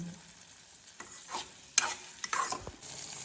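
Cluster beans (gorichikkudu) curry cooking in milk being stirred in a pan, with a few soft scraping strokes and faint sizzling, quiet and close, no talking.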